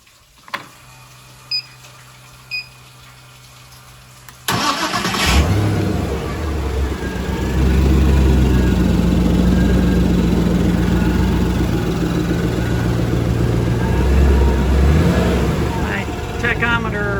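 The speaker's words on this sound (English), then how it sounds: "So it's time to run my engine again this year." An engine on a test run starts after a few seconds of quiet background, then runs loud and steady with repeated revving swells close by; a voice talks over it.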